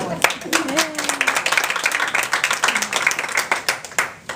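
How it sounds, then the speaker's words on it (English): Warm audience applause for a speaker about to give an impromptu speech, close and lively clapping with individually audible hand strikes, mixed with a few voices near the start. "Let's give it a warm applause to Susan."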